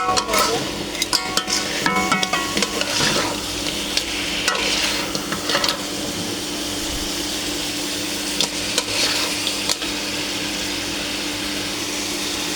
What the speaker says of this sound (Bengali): এখানে আমি হাফ কেজি পরিমাণে কাঁকড়া নিলাম। এবারে সুন্দর করে নেড়ে চেড়ে দিয়ে কষাবো।